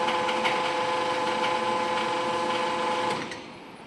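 Hydraulic pump on a Bode VP100/2 5000 kg welding positioner running steadily, a loud continuous mechanical whine and hum close by that drops off near the end.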